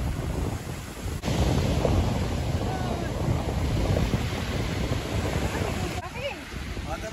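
Sea waves washing onto the beach at Saidia, a steady broadband surf roar mixed with wind buffeting the microphone, continuous and fairly loud throughout.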